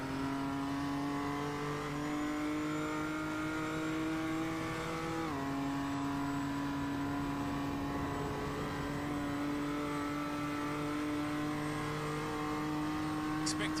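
A racing car engine at Mount Panorama in a sim racing esports qualifying session drones steadily at high revs, with one clear gear change midway before the tone climbs again.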